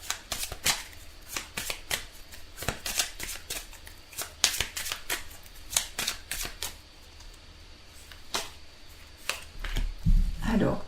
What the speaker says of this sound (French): On tire une carte du tarot romantique.